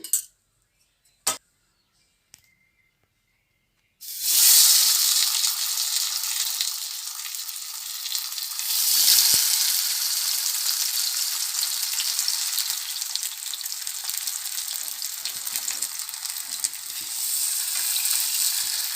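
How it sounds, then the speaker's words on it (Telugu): Fish 65 pieces shallow-frying in a spoonful of oil: a few quiet clinks, then a sudden loud, close sizzle that holds steady and continuous to the end. "అలాగే ఒక స్పూన్ ఆయిల్ వేసుకొని మళ్ళీ మిగతా చేపలను కూడా ఇలాగే ఫ్రై చేసేసుకోవాలి"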